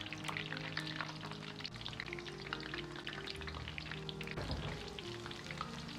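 Battered green beans deep-frying in hot oil, a dense continuous bubbling sizzle close up with a low steady hum beneath and a brief stir near the end, no talking.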